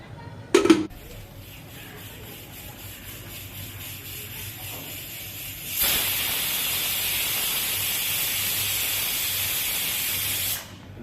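A pressure cooker boiling mung dal gives a short clunk, then a quiet simmer, then a loud steady steam hiss for about five seconds that cuts off sharply.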